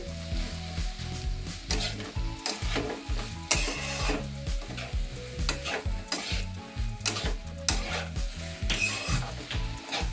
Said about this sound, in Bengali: এরপর এটিকে ভালোভাবে গাজরগুলির সাথে মিক্স করে নেব।